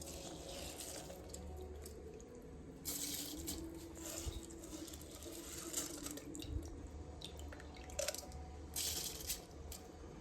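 Water pours steadily into a cooking pot for rice biryani, a continuous splashing gush lasting several seconds with a few small clinks, close and moderately loud, with no talking.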